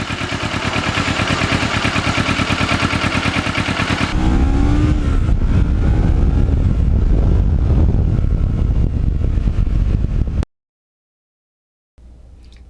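A restored black and gold Kawasaki Ninja motorcycle being ridden, its engine a loud, steady buzzing drone that changes tone partway through with pitch swells, then cuts out abruptly before a short return.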